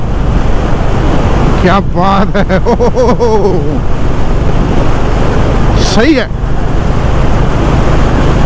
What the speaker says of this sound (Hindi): ये देखो हवा चल रही है, मिट्टी उड़ रही है दबा के